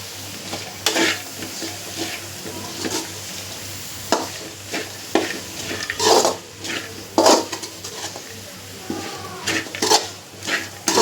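Cabbage going into a hot pan and being stirred, with steady frying sizzle and repeated scraping clatter of a spoon against the pan.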